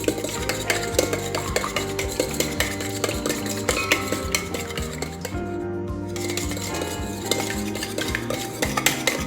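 Eggs being beaten in a bowl for cake batter, with a utensil repeatedly clinking and scraping against the bowl in a quick steady rhythm, close up, with music playing underneath.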